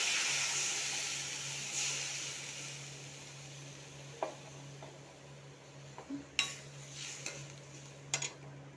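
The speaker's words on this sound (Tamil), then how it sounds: "எல்லாத்தையும் நல்லா வதக்கணும்." Ingredients being sautéed in a pan for traditional South Indian uppu adai: a soft, steady frying hiss with a low hum, broken by a few quiet clinks and scrapes of a stirring utensil, close but faint.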